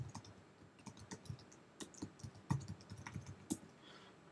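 Quiet, uneven typing on a computer keyboard, with irregular clusters of soft key clicks and a few sharper taps.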